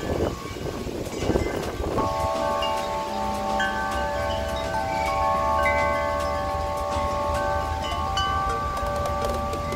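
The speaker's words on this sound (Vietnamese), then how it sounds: "Có tiếng chuông gió hay quá mọi người." Wind chimes ringing at a Zen monastery, several clear sustained metallic tones overlapping and ringing out one after another over a low background of wind and distant rumble.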